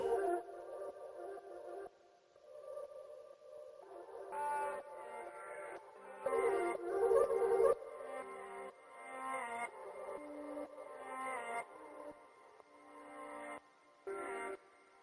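Two layered lofi house vocal loops with a hazy, low-cut filtered, reverb-soaked texture, sung phrases drifting over a sustained pad, steady and fairly quiet throughout.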